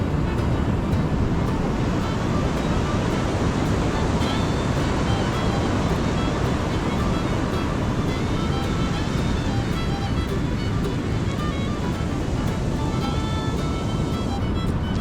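A steady, broad roar of surf rolls on without pause at Twin Harbors State Park in Washington, loud and close, with no voices over it.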